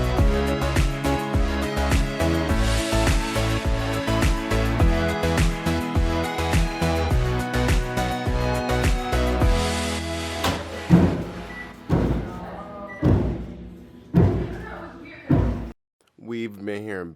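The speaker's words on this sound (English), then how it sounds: "We've been hearing banging and construction like this for the past 4 weeks." Repeated loud banging from backyard deck construction: a thick run of hammering and thuds, then slower, spaced single heavy blows toward the end, with some speech mixed in.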